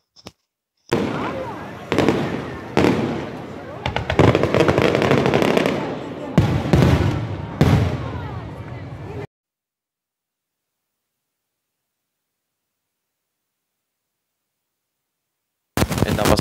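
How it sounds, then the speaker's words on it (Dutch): Loud bursts of fireworks in Spain crackle and boom in clustered volleys, then a long silence before another burst starts at the end. "Dus hier is de clip van het vuurwerk."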